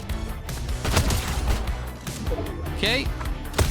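Pump shotgun blasts go off in a Fortnite match, several sharp shots mixed with game noise while a player talks over them.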